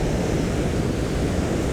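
Ocean waves roll in on the rugged Donegal coast in Ireland, a steady broad wash of surf and wind noise, loud and continuous with no voices.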